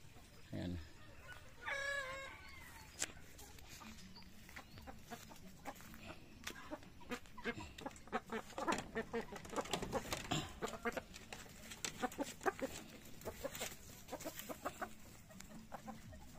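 Chickens cluck in short, scattered bursts close by while eating food leftovers, with pecking and shuffling noises throughout and a brief louder squawk near the start.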